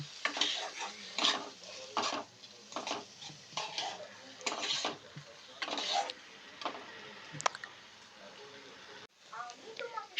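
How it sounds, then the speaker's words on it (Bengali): Fried beans, carrot and egg are stirred into tomato in a pan for pasta, a utensil scraping and clinking against the metal with soft sizzling, while a voice talks alongside. "আগে থেকে ভেজে রাখা বিনস গাজর আর ডিমটাকে আমরা এর মধ্যে দিয়ে দেব দিয়ে ভালো করে নাড়িয়ে নেবো"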